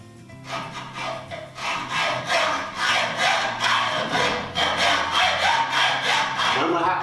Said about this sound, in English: we're going to cut using our hacksaw